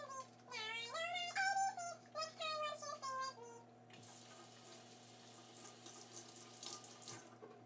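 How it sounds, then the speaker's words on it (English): Water runs steadily from a tap into a sink during handwashing, a soft, even rush under a child's singing that then carries on alone. "make sure that you wash your hands for 20 seconds"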